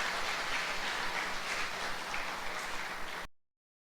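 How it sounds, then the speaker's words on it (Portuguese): A church congregation at a teen youth gathering claps together in steady, dense applause that fills the room evenly and then cuts off abruptly. "Vocês podem aplaudir Jesus pela vida deles?"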